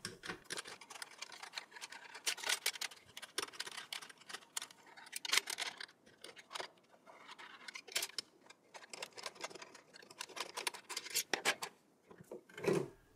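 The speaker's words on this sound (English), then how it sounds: "Let me also unscrew and remove the second heatsink now, before getting the CPU off." Screws being undone and a CPU heatsink lifted out of an Apple Mac Pro 4,1/5,1 during a dual CPU upgrade: close, irregular scraping, ticking and metallic handling clicks at a low level.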